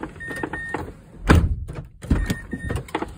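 The driver door of a 2011 Mazda CX-9 swings open and shuts with two solid thunks about a second apart, close up, along with faint clicks of the latch.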